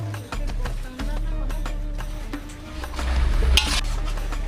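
A busy Muslim hotel restaurant kitchen where chui gosht, a traditional meat dish, is being cooked: steady stirring and sizzling with clanks of pots and utensils, a low rumble underneath, and voices faintly in the background.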